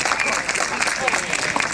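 An aquarium audience claps at a whale show, a brief burst of scattered applause with voices mixed in.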